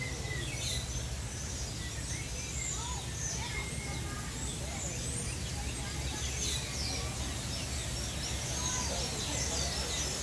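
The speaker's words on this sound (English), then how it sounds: "You can hear the birds out and about." Birds chirp and call in the walk-through aviary at Disney's Animal Kingdom, with scattered short tweets and coos over a steady crowd-and-ambient hum. A voice talks through the chorus.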